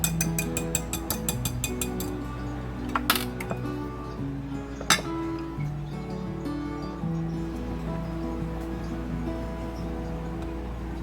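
Egg and shredded cheese for a chaffle batter being stirred in a bowl, with steady clinking and scraping of a utensil against the bowl and a couple of sharper knocks, close and continuous with no talk.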